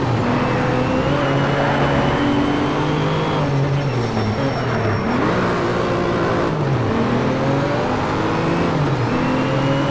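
Porsche race car engine in the racing game Need for Speed Shift, holding a loud, steady roar that climbs and dips in pitch as it accelerates and shifts through gears across a circuit, with no voices over it.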